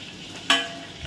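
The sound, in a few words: sautéing onions in pan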